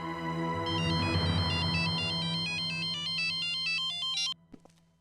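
An incoming call's ringtone plays on a phone in a CID crime drama episode, a loud, bright, repeating electronic melody that cuts off abruptly near the end, followed by a couple of faint clicks.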